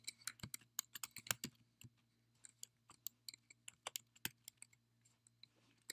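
Typing on a computer keyboard while entering code to program an IR sensor controlling a servo: bursts of crisp, close key clicks in irregular clusters, with short pauses between runs, over a faint steady hum.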